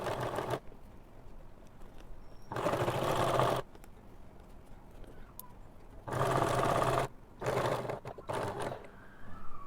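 Sewing machine stitching around the neckline of an easy everyday top, running in three steady motorized bursts of a few seconds each, separated by quiet pauses.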